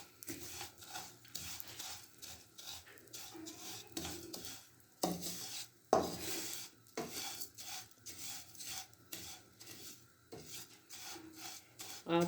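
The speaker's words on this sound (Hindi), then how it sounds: "अब सेवइयों को फ्राई करते हैं थोड़ी देर ताकि इनका भी कच्चापन सारा ख़त्म हो जाए।" Vermicelli being fried and stirred in a pan for kheer, a steady scraping and rasping of a spoon against the pan with a soft sizzle underneath, repeated in short strokes, close and moderately loud, with no talking.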